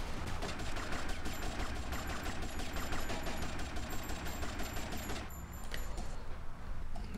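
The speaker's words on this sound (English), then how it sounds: "just shoot them in the head" Rapid gunfire in the video game Shine o' Vice, dense overlapping bursts like automatic weapons rattling steadily and loudly throughout, with a brief thinning near the end before continuing.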